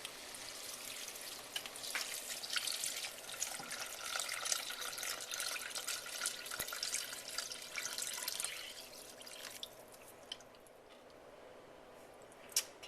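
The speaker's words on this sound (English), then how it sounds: "So now we're going to put in the broth" Broth for French onion soup pours steadily into a soup pot, a continuous watery splashing rush that runs for several seconds, then tapers into quieter trickles and drips near the end, with no talking.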